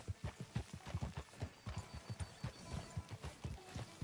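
Horse hooves clip-clop in a steady walking rhythm in the video game Red Dead Redemption 2, close and distinct with a brief whinny, no talking over them.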